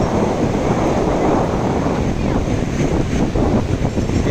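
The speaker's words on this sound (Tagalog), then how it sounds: "Ang lakas ang alon, hatakin kayo sa malalim yan." Strong surf pounds a beach in Pangasinan, a loud, continuous roar of breaking waves mixed with buffeting wind on the microphone.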